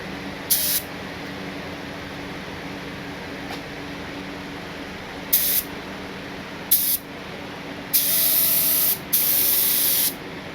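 An HVLP spray gun sprays Rustoleum paint in short test bursts: a few brief hissing blasts, then two longer sustained sprays close by, with quiet gaps between.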